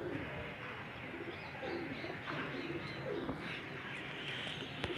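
Breeder pigeons in a loft coo softly in low, murmuring calls that overlap against a busy background of faint rustling and chatter, with no single bird standing out.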